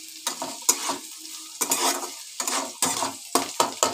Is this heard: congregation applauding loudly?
no